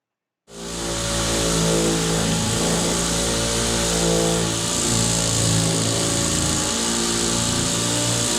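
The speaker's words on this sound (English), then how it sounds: "So I'm running the DA over with 80 grit." Pneumatic DA sander with 80 grit sandpaper works over Bondo filler on a car door, spinning up quickly into a loud, steady buzzing whir that continues without a break.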